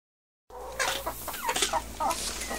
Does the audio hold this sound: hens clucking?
yes